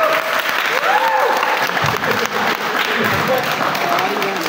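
An audience claps at a talk on finishing a final thesis, steady applause lasting several seconds while a voice speaks over it.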